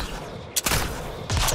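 Turret gunfire in the Mass Effect Andromeda video game, a couple of sharp close bursts with a sustained volley at the end, no talking.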